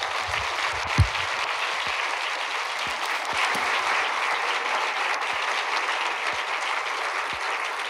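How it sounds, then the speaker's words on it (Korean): A church congregation claps steadily and warmly throughout, welcoming the pastor at a Sunday service, dense and even, with a few low thumps underneath. "목사님 나오실 때 우리 박수로 환영하겠습니다"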